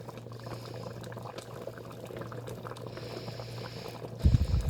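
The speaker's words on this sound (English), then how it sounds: "the temperature will drop, so it will quit boiling after a while" Beef stew bubbles in a Power XL StirMax multi-cooker set to stew, a soft steady simmering with a louder burst of bubbling or stirring at the end.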